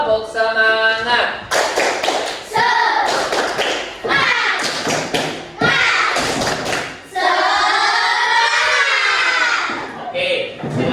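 A classroom of Islamic religious education students claps out a tepuk semangat chant, with patterned bursts of hand claps and taps interleaved with loud group shouting, near and lively throughout.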